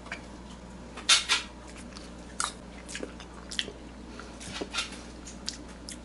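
Someone bites into soft mamey fruit and chews it close up, with a few crisp bite sounds, wet squishy chewing and faint clinks of cutlery or dishes in a quiet room.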